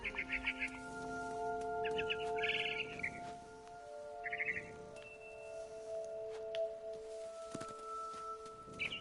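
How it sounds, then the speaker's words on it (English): Barn swallow chirping in the video game What Remains of Edith Finch: short bursts of bright twittering calls repeat at intervals over a steady tonal game ambience, fairly clear and close. "Then I heard chirping outside my window. It was a barn swallow going back to her nest."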